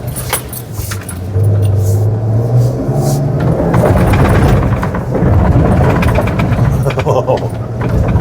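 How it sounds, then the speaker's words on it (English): An Ineos Grenadier with a BMW turbo engine drives through deep soft sand, its engine droning and pulling loudly and steadily up close throughout. "So this is where that BMW turbo power is greatly appreciated."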